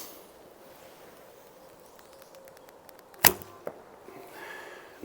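An arrow from an Alibow Imperial Kheshig bow strikes the target with a single sharp thunk, followed by a faint second knock, over quiet outdoor ambience.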